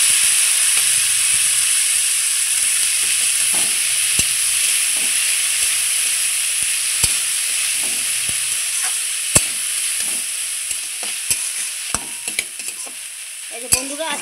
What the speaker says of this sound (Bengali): এই যে বন্ধুরা আজকে আমি থোরটা একদম সিম্পলভাবে ভাজা করছি, দেখুন